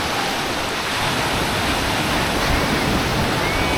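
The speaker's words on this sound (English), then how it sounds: "I'm walking right in the surf up to about my knees." Steady, loud rushing surf fills a small bay at Sayulita, heard from someone standing knee-deep in the breaking waves, with no voices over the continuous wash.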